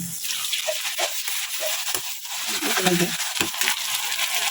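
Ginger-garlic paste fries in a pan for a dried fish curry while it is stirred, giving a steady close sizzle broken by repeated scraping strokes of the spoon.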